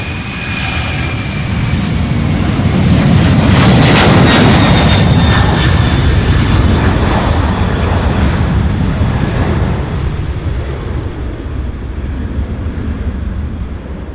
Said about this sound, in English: that one is 767 heading to Spokane, Washington